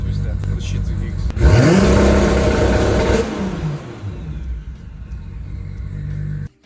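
A Toyota Supra with an open exhaust valve holds a loud two-step launch-control rev for about two seconds, then the engine falls back to a rumbling idle, heard close and alone.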